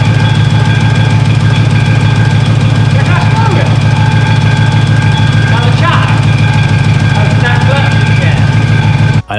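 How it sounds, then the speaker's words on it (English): A V8-swapped BMW E36 runs steadily with a loud low engine drone, a faint metallic rubbing from the flywheel starter gear coming through several times over the idle. "That is the flywheel starter gear basically rubbing on something"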